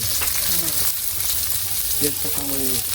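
An egg frying in hot oil in a small village kitchen gives a continuous close sizzle, with brief faint voice-like sounds rising over it now and then.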